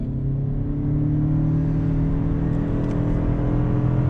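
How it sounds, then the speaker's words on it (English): A 2021 Toyota Avalon Nightshade XSE hybrid sedan accelerates on throttle, giving a steady, close engine and road drone with a faint whir and no speech. "let's go ahead and do an on throttle"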